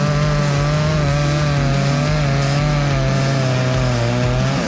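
A chainsaw bores into a tree trunk, its engine holding a loud, steady high-revving whine under load throughout the cut, with no one talking.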